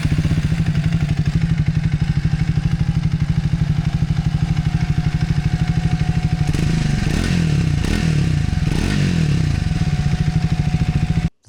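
A Triumph Speed 400 single-cylinder motorcycle with its factory muffler idles steadily and close, with an even, thumping exhaust pulse, then gets a few quick throttle blips near the end before cutting off abruptly.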